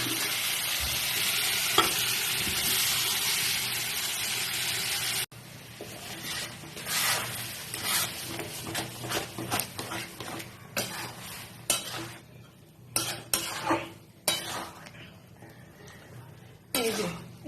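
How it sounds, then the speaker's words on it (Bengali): Boiled dal tipped into a hot pan for a Pahadi mixed dal: a loud steady sizzle first, then a quieter run of spoon scrapes and stirring knocks against the pan, with brief clinks of utensils. "এর মধ্যে আমি সেদ্ধ ডালটা দিয়ে দিচ্ছি।"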